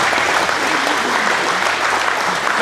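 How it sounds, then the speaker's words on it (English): Audience applause at a veterans resources gathering, steady and dense clapping from a crowd filling the whole stretch at even loudness with no voices. "Let's give them one more applaud"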